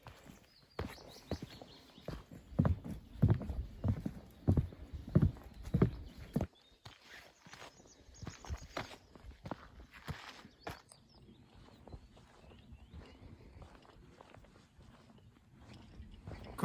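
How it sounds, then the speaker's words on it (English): Footsteps crunch and thud along a walking trail, rhythmic and fairly faint, with a louder run of steps early on before the surface changes to softer, scattered steps, with no talking. "some parts are boarded, so you get lots of different sounds of where your feet are going"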